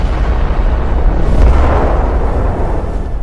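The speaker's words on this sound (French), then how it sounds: "L'explosion déchire la poupe du navire." A naval shell strikes the ammunition magazine of the battlecruiser HMS Hood, setting off a heavy deep explosion with a sustained rumbling roar that swells and then lingers at high volume.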